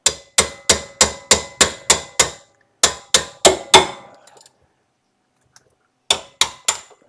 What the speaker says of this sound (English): Just a few taps on there with the dead blow hammer